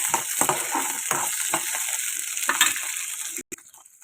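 Fenugreek seeds frying and being stirred in a pan, a steady soft sizzle with faint scraping and stirring clicks at a moderate level, ending with a brief sharp knock.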